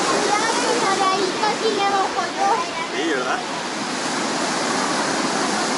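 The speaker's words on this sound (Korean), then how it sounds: "파도 소리가 너무 좋다." Steady roaring wash of ocean waves on the coast at Lagos, Portugal, loud and continuous, with a voice speaking faintly over it early on.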